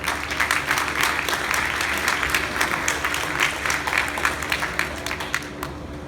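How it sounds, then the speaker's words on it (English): A tech conference audience breaks into dense, sustained applause, a loud continuous wash of many hands clapping at once with a low steady hum underneath. "Everybody please give a big round of applause."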